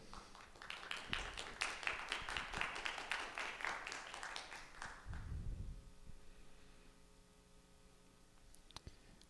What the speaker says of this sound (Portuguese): Patrícia, Thaís, recebam elas com muito aplauso